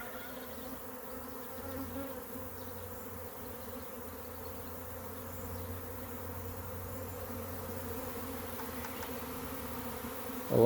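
A honey bee swarm buzzes in a steady, droning hum near a capture box, many bees blending into one continuous sound that holds evenly throughout, with no talking.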